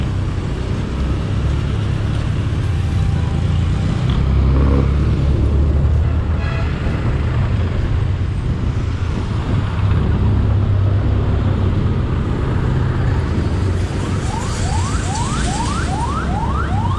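A Honda BEAT scooter ridden along a road, its engine droning steadily and loud throughout with passing traffic noise around it, and a brief rising whine near the end.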